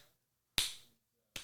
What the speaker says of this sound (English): Me clapping out of anxiety.